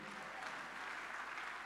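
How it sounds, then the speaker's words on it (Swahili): A church congregation claps during a Swahili sermon, a faint, distant patter of many hands that stays even and low for the whole stretch. "Wapigieni tena makofi waniache nihubiri"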